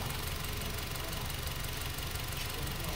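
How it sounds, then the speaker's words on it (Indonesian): An overhauled Honda Brio engine runs steadily after rebuild, a continuous close idle with a low rumble and faint knocking texture, unbroken and fairly loud throughout. "ini mesin sudah naik dan sudah kita proses running"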